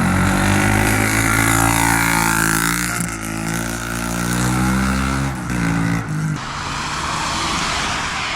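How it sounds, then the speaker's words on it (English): A dirt bike engine with worn-out muffler packing, loud, raspy and harsh, revving up and down with the pitch sliding and dropping briefly before settling into a rougher idle, close by. "I'll put a video up right now of what the bike sounded like when it needed to be packed."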